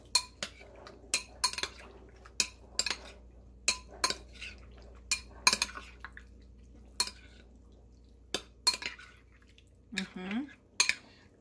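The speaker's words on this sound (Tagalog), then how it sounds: "Mix na natin siya." A utensil stirs a salmon kinilaw mixture dressed with lemon and lime in a bowl, producing repeated sharp clinks and taps against the bowl in a steady rhythm, close and fairly clear, with brief wet sounds near the end.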